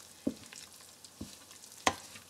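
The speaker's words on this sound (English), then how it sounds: "I'm just going to stir it around a little bit more" Lángos dough is stirred in a bowl, giving three soft, separate scraping knocks over a quiet background, the last one the sharpest.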